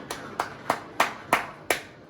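A single person claps six times at a slow, even pace, close and fairly loud with short decays between claps.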